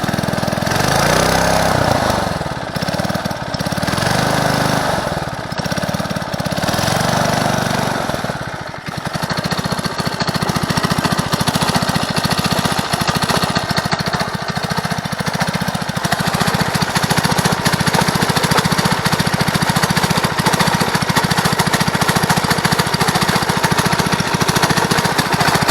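A Predator 212cc engine on a Motovox MBX10 mini bike that had been sitting for a while runs loud and close, a harsh rattling small-engine drone with uneven revving early on before settling into a steady roar.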